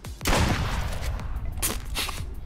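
Gunshots in the Duck Season video game: a loud blast, then rapid follow-up shots and booming reports under a noisy backdrop, with further shots trailing off.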